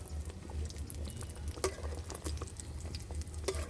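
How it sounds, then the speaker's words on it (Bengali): Elephant foot yam cutlets coated in gram flour and biscuit crumbs frying in oil, a faint, steady crackle and patter with scattered small pops over a low background hum. "এইভাবে আমরা এক এক করে ভেজে নিচ্ছি, বিস্কুটে গুঁড়োই দিয়ে, বেসনে দিয়ে।"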